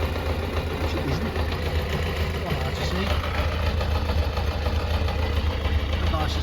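A UK motorcycle idles steadily during a pre-MOT exhaust system check, a continuous low engine rumble close by with a brief spoken word.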